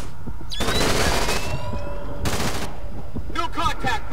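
Burst of gunfire in the video game Splinter Cell Conviction, loud rapid shots in two dense volleys with metallic ringing and game sound effects between them.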